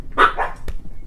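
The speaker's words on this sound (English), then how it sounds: "I got a package from the mailman, and my dogs must think it's treats for them." Dogs excited by a package from the mailman let out a quick pair of close barks indoors, followed by a short, sharp yip.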